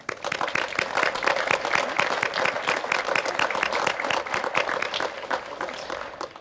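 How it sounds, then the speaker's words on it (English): Outdoor crowd applause for runners at a law enforcement memorial run, a steady dense patter of many hands clapping for several seconds, fairly close and continuous, with no talk over it. "give a short bit of applause for all of the runners here this morning"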